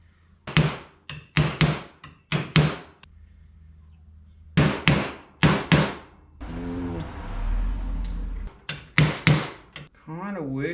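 Sharp, ringing hammer taps on a Teflon punch against stainless metal trim come in quick clusters of three or four, close up, with a pause and a brief mumbled voice between groups.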